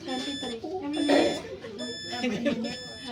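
A Keystone Saveris monitoring device sounds its alarm with steady, repeating high-pitched electronic tones, while people speak over it throughout.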